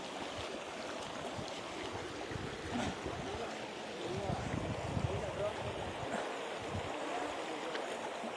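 People wade barefoot across a shallow river in the Zarvani area of Narmada, with a steady wash of flowing water and splashing, and voices heard over the current.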